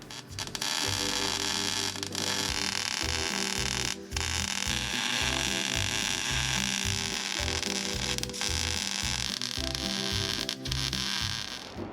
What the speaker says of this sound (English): So now it's time to get welding.